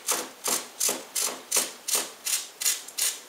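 A bamboo rod blank is turned down by hand against an abrasive, like a hand lathe, giving nine steady rasping strokes at a regular rhythm, close and moderately loud, with no talking.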